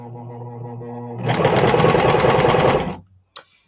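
A sewing machine stitching patchwork seams runs in a fast, steady whir of rapid needle strokes for under two seconds, loud and close, after a low hum, then stops with a small click.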